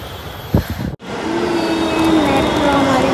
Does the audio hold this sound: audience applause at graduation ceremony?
no